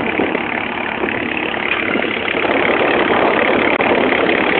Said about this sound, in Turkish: Motoru biraz boğuyor